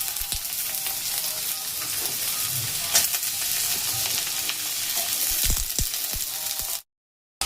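Thinly sliced potatoes and onions frying in a pan, a constant close sizzle with spatula stirring and scraping clicks toward the end before the sound cuts off abruptly.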